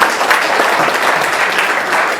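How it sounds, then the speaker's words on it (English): Dense, loud applause from the attendees at a Muslim lawyers' association meeting, a continuous wash of clapping without any break. "Shamim Azan, could we please give ourselves a round of applause, all of us?"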